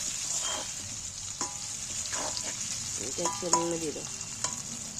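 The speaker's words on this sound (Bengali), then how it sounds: "এইবার তেলের মধ্যে অল্প একটু নেড়ে নিয়ে নুনটা জোরে জোরে দিতে যাচ্ছে" Chopped green chilies frying in hot oil, a steady close sizzle with soft stirring scrapes and a few brief clinks over the top.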